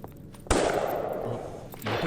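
A phone ringtone that mimics gunfire, in a dubbed Hindi action film, sounds as a sudden loud burst that sustains for over a second and then returns. It is close and harsh, and no one talks over it.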